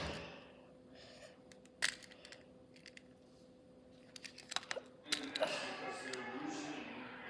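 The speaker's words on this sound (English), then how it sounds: "Scissors for the pivot cups." Scissors cut pivot cup material for new bushings: a few sharp, isolated snips in a quiet room, then a denser burst of crisp cutting and rustling near the end.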